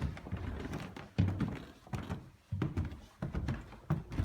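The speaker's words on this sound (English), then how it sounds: "These are creaky stairs." Old wooden stairs in the Camarillo Ranch House thud and knock under heavy footsteps as people climb, several dull irregular treads close by, with no talking.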